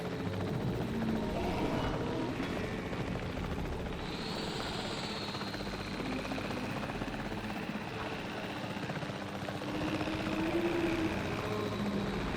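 Helicopter in Jurassic World Evolution 3, a steady whirring rotor drone with engine hum running continuously and evenly throughout, moderately loud with no talk.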